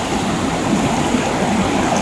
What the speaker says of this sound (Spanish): esta se podría considerar una pequeña venita de agua